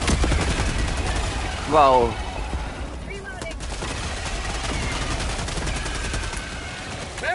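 Rapid automatic gunfire in the video game Helldivers 2 rattles steadily throughout, with a louder burst near the start and a brief exclamation from a player over the shooting.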